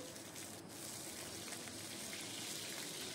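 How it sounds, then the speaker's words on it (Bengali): A steady, dense sizzle of cauliflower frying in hot oil in a wok, close and constant, with no talking. "এবার আমি কড়াইতে সমস্ত সবজিগুলো ভেজে নেব। প্রথমে ফুলকপি দিলাম।"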